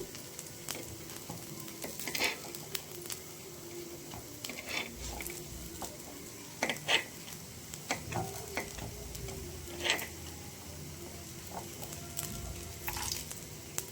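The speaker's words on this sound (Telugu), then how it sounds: "ప్రతి దాని మీద కూడా కాస్త కాస్త నూనె అప్లై చేస్తే సెకండ్ వైపు కూడా బాగా కాలుతుందండి" Gunta punugulu batter fries in oil in a paniyaram pan, a steady soft sizzle with scattered clicks and pops of a utensil turning them, close and unaccompanied by talk.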